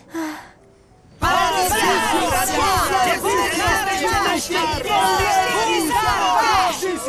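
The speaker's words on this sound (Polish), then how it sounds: "jestem wśród tłumu fanów, którzy cierpliwie czekają na pojawienie się swojego zespołu" Large crowd of fans in an animated series, waiting for their team: loud, dense cheering and shouting with overlapping voices that swells after a brief quiet start and stays steady to the end.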